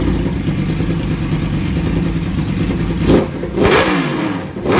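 A Honda XRE 190 motorcycle engine idles steadily, then revs up sharply twice near the end, the single-cylinder rumble rising in brief throttle blips close to the listener.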